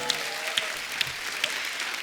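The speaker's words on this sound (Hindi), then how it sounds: "ये आर्टिस्ट के लिए जोरदार तालियां होनी चाहिए" An audience at a comedy show applauds for a performing artist, a diffuse wash of clapping with a few sharp individual claps standing out, under faint background talk.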